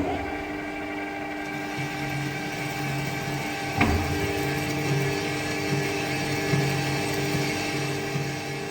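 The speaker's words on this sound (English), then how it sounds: "we're going to keep machining out that weld and remove the rest of that crack" A machining tool cuts out a cracked weld on a hydraulic cylinder from Caterpillar's largest grader, producing a steady, close mechanical whine and hum with rhythmic pulsing and a brief sharp clack midway.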